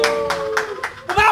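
Several sharp hand claps in an uneven rhythm, close and fairly loud, with a voice running under and between them.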